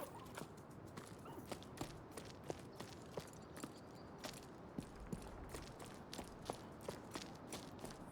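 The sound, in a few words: character footsteps running in the video game Jusant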